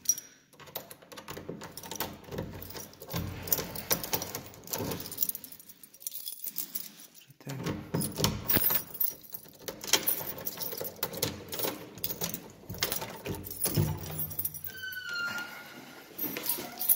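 A bunch of keys jangles and clinks in irregular bursts, close and fairly loud, with metallic rattling scattered across the stretch and a few gaps of near quiet.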